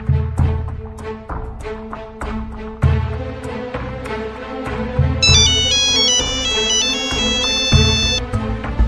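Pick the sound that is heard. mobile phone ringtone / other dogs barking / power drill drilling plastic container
mobile phone ringtone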